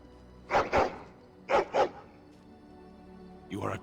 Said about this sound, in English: What a nice dog, Carver.